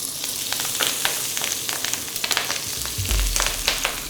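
Spring onion hitting hot oil in a seasoned wok, giving a bright, dense sizzle with crackling pops throughout, close up, and a low thump and surge of frying near the end.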